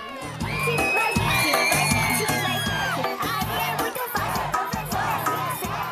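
A studio audience on a Brazilian TV programme at a Candeias event yells and cheers loudly as a challenger steps into the circle, a dense, sustained roar of many voices with shrill shouts and whoops throughout.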